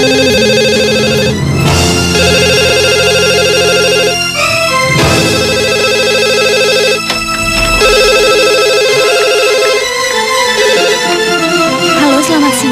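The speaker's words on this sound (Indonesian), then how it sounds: "Mas Bayu, ada telepon?" A telephone rings loudly and alone in an indoor film scene, with repeated electronic ringtone bursts separated by short gaps.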